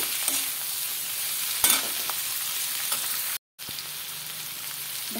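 Shredded cabbage, tomato and capsicum stirred in a frying pan with onions, a soft steady sizzle with a few spoon scrapes and a brief dropout in the middle, no talking.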